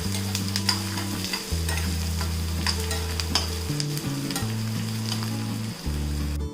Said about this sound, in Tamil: பார்த்தீங்கன்னா வெங்காயம் கொஞ்சம் வதங்கிடுச்சு.